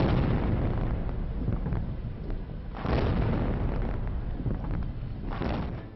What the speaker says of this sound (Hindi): ओबामा के शान में दग रही 21 गोलों की सलामी